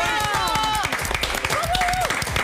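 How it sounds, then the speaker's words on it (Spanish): A studio audience applauds on a Spanish-language Saturday TV variety show, a dense, steady patter of clapping throughout with a voice talking over it. "Un fuerte aplauso para haber venido el día de hoy"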